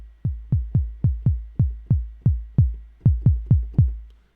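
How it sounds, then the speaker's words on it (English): A deep, punchy electronic kick drum thumps in a steady, evenly spaced pattern, each hit decaying quickly, with nothing else playing. "we're really starting to get a familiar kick sound now"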